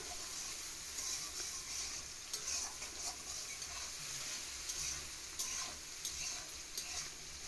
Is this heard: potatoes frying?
yes